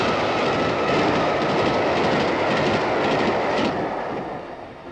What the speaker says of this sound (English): the fastest start to finish train in the country, the Bristolian, is still steam hauled